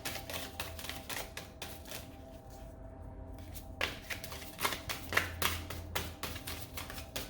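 Oversized tarot cards being shuffled by hand, a steady run of close, crisp riffling slaps and flutters that pause briefly midway, with no talk over them.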